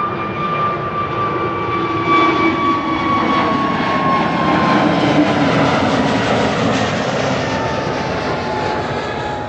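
An Airbus A321 jet at Amsterdam Schiphol Airport passes nearby, a swelling engine roar threaded with high whining tones that slowly slide downward as it goes by, then eases off.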